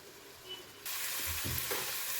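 Prawns and cabbage frying in a pan, a steady close sizzle that swells louder partway through, with faint stirring scrapes underneath.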